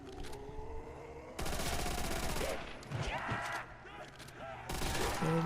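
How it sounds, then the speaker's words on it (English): Bursts of machine gun fire aimed at zombies in Call of Duty's Verruckt map, loud rapid volleys separated by short pauses filled with game noises and zombie sounds. "I might be able to take out most of the zombies using the MG."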